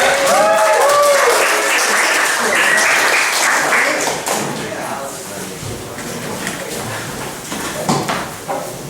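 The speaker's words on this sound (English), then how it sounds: "Give a round of applause again." Crowd at a student comedy gig claps and cheers in a loud burst that gradually thins, with a voice speaking over the fading applause.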